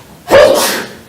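A single sneeze bursts out during a school board meeting, sharp and fairly close, followed by a breathy trailing tail in a quiet room.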